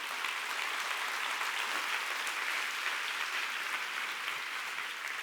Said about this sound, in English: Come on, give Jesus a big hand clap.